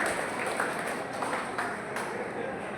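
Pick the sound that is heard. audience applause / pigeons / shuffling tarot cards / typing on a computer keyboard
audience applause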